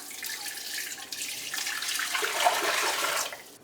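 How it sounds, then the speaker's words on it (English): Water pours into a Nesco electric digital pressure canner, a steady splashing rush that grows fuller and louder before stopping abruptly. "So let's get the water in there"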